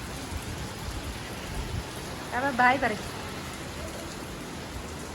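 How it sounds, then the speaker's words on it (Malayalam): Rain falls steadily with an even hiss, and a voice speaks briefly in the middle. "അപ്പത്തേക്കും മഴ പെയ്തു"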